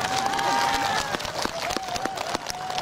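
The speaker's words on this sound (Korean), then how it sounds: "박수 부탁드리겠습니다." Crowd at a big outdoor variety show in Goheung applauds and cheers for the county governor, a dense continuous wash of clapping with a voice and music tones running over it throughout.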